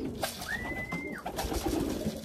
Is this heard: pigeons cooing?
yes